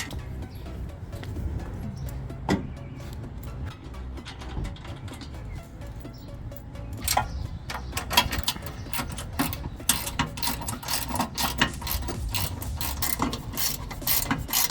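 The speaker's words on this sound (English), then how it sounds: "Gotta line up your fenders and screw them in." A hand tool ratchets as screws are driven in to mount rear tube fenders on a Jeep, making quiet rapid clicking bursts that grow busier and louder in the second half, with no talk.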